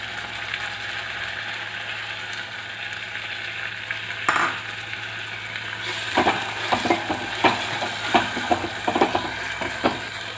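Chopped tomatoes drop into hot oil already frying green chili and ginger for a coastal Udupi-style katta saaru, a steady hiss that flares into loud sizzling, followed by a string of scraping stirs and clacks of a spoon against the pan.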